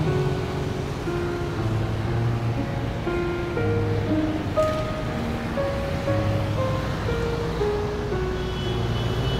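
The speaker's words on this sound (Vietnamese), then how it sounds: "Suối Cam Ly thì nó nằm ở phía sau lưng của em quý vị." Cam Ly stream flowing beside an embankment in Da Lat, Vietnam, a steady, full-bodied rush of water that holds constant throughout, with no voices over it.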